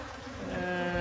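Honeybees at a hive about to swarm make a close, dense, steady buzz with layered humming tones that hold for about a second.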